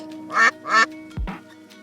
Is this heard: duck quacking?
yes